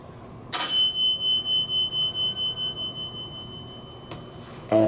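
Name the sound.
elevator bell being rung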